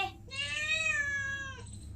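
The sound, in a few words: cat meowing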